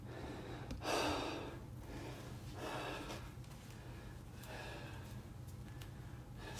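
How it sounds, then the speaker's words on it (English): Someone does a deep breathing exercise after a workout, two or three slow, soft inhale-and-exhale breaths, quiet and close against faint background noise. "do a nice big breathing exercise"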